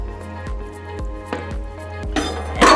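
A spoon scoops johnny cake ingredients into a mixing bowl, giving several close, evenly spaced clinks and taps of metal against the bowl, with a louder scrape and clatter at the end.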